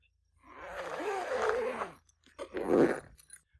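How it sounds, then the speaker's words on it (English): A zipper is drawn along a 270 awning cover in two close, scraping pulls, a longer steady one followed by a short, sharper tug, with quiet around them. "continue to pull the zipper forward"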